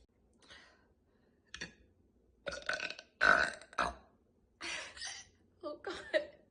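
A person lets out a run of loud, deep burps, about six throaty bursts of varying length separated by short pauses, close to the microphone.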